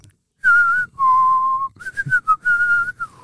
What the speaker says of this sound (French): On va siffler une mélodie.